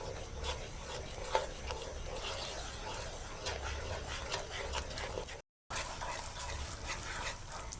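A spoon keeps stirring besan as it roasts in ghee in a pan over a medium-low flame. The scraping runs steady and even throughout, broken only by one short dropout.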